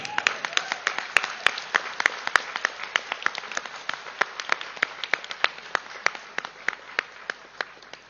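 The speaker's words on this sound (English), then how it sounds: "Give a big clap to this great master." A small group claps for a master at a gathering, a moderately close, irregular patter of distinct individual handclaps continuing steadily with no talk.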